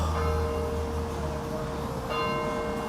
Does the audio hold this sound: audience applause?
no